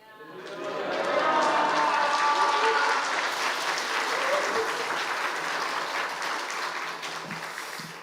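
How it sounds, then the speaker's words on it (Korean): A church congregation at a Wednesday prayer meeting bursts into loud, sustained applause and cheering as a visiting pastor comes forward, with shouts and voices over dense clapping that swells quickly and holds. "우리 하는 대로 환호하면서 박수하고 할렐루야 두 손을 한번 탁 들고 한번 환영합시다"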